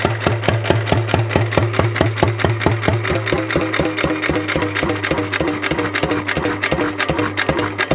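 A 1929 Economy XK 3 1/2 hp hit-and-miss engine running on kerosene: a steady train of close, loud, evenly spaced exhaust thumps with a low droning undertone, no voices.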